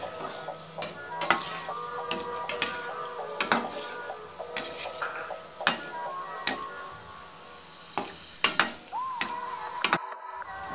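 Gulab jamun balls frying in hot oil while being stirred, a bubbling sizzle under repeated sharp clicks and scrapes of a spoon against the pan, loud and close.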